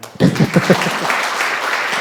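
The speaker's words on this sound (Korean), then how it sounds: "박수 한번 주세요." Conference audience at a coaching seminar breaking into applause after a host's prompt, the clapping starting abruptly and holding steady, with a few brief vocal sounds near the start.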